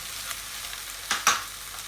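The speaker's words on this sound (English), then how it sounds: "So I'm going to let the garlic and the black beans just fry" Garlic and black beans fry in a pan for beef in black bean sauce, a low steady sizzle broken by two short louder scraping stirs.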